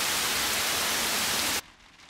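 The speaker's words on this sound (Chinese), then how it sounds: "怎么突然下起阵雨了？" Sudden steady rain shower in a cartoon, a dense even hiss that runs loud and uniform, then cuts off abruptly near the end, leaving only a faint quiet background.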